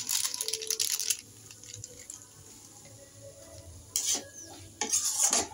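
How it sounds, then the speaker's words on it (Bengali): Ghugni being stirred with Maggi masala in a pan, with scraping and clinking of a spoon against the metal in short bursts and a low sizzle in between, close and moderately loud. "তারপর একটু ম্যাগি মশলা মিক্স করব"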